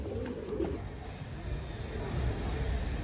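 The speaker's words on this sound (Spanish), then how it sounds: "Este es el reproductor con las palomas que están aquí y algunas que están arriba" Pigeons in a racing loft, breeding birds here and more perched above, give low murmuring coos that stay steady and moderately close against a busy background rumble.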